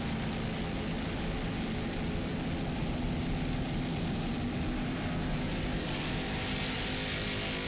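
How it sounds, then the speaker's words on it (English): A Bell 407 helicopter flies over a 2004 Key West world championship powerboat race for superboats and catamarans, giving a loud, steady, continuous engine and rotor drone with deep low rumble throughout and no voices. "Right underneath our freeze frame video helicopter, Russell Kilpatrick doing a great job in his Bell 407"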